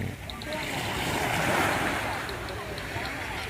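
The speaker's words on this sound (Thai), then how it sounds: "เสียงน้ำทัด เข้าชายฝั่งนะครับนี่" Sea waves wash onto the shore at Bang Saen beach, Chonburi, in the morning, a broad, rushing surge that swells and eases, with wind buffeting the microphone.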